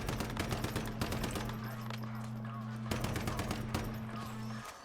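Rifle and shotgun turrets in the video game Once Human fire in rapid bursts of sharp cracks and shots, a constant rattling barrage against a steady droning hum.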